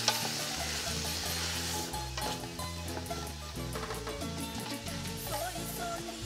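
Chicken, pork and chopped vegetables cook in a pot as they are stirred, giving a continuous close sizzle and scraping, with a low tonal hum running underneath.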